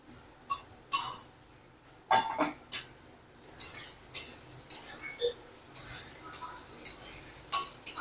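Potatoes going into fried spices in a pan, heard as a series of sharp metallic clinks and scrapes of a utensil against the pan, irregular and close, with soft sizzling between the strikes.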